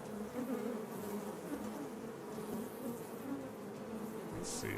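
Giant filthy flies in the Shadows Over Loathing video game keep up a continuous loud buzzing drone that swamps the quiet background music throughout.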